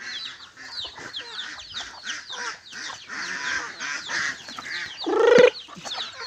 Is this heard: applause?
no